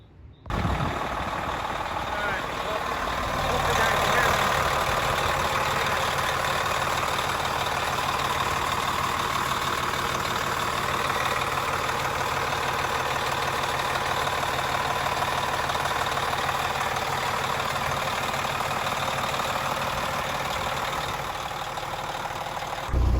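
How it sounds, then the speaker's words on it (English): A white GMC cab-over truck engine idles steadily and continuously at close range, a dense mechanical rumble holding at an even level throughout with no breaks. "So truck's running pretty good. I got it idling for a while"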